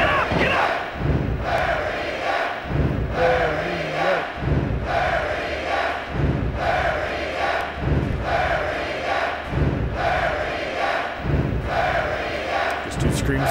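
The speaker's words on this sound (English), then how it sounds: "This crowd has gone bananas." A wrestling video game arena crowd roars and screams in rhythmic, chant-like surges for a wrestler in career mode. Loud waves of crowd noise repeat at a steady pulse, with occasional thuds underneath.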